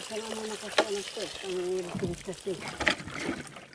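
Water is poured and splashed over a water buffalo at a rural hut, with a few sloshing bursts heard under steady close-up talk from people tending the animal.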